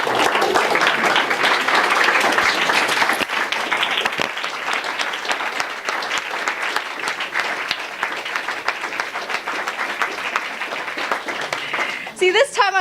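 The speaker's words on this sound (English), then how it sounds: "this time I was actually going to tell you guys to applaud, but you beat me to it" Applause from an audience after a short biology research talk, dense clapping sustained for several seconds before thinning out, with a voice beginning to speak near the end.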